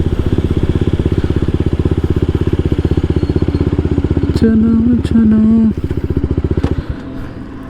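A BMW G 310 RR motorcycle engine idles with a steady, fast, close pulsing thump, then blips briefly near the end; a man's short spoken call and a high whine partly overlap it.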